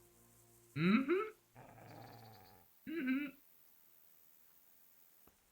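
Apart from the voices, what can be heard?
dogs growling and barking in Kingdom Come: Deliverance video game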